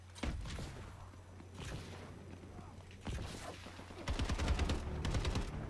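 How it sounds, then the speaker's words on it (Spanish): Call of Duty Advanced Warfare gunfire: several loud bursts of automatic fire, with a dense rapid volley toward the end, over a low steady game rumble. "Y habrá que hacer unos tiros así"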